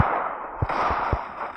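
Gunshots in a shooting video game, with a few sharp low thumps spaced irregularly over a steady hiss of background game ambience.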